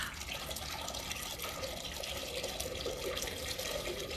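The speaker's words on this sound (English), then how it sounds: "And then I'm gonna hold up my fidget spinner. And I'm gonna start pouring water." Water poured in a steady, continuous splashing stream onto a handheld fidget spinner, close and moderately loud, with no voices.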